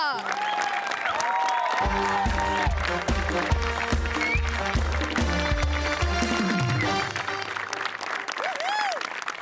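Audience applause at an award show as an actor is honoured, a sustained wash of clapping from a large crowd, with music and a voice running alongside.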